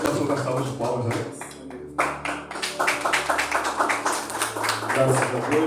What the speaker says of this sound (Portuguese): Vamos receber o pastor da salva de palmas